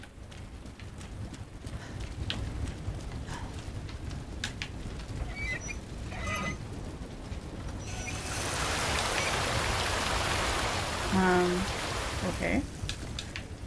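Steady rain hisses in the survival horror video game Resident Evil 2 and grows heavier and denser partway through. A voice says a short word over it.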